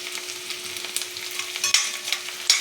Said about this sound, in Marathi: आता कांदा आपला हलकासा भाजत आलेला आहे.